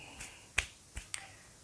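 Hands patted together during the tayammum dry ablution ritual, three or four quiet separate pats in a still room.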